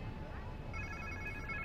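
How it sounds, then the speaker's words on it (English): A phone in the video game Spider-Man 2 rings with a repeating electronic trill, moderately loud over a low rumbling background with faint voices. "Sounds like somebody's phone."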